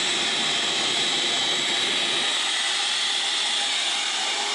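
A homemade oil evacuator runs steadily, pulling oil out of a lawn mower engine with a loud, continuous airy hiss and rush that holds evenly throughout, with no talking.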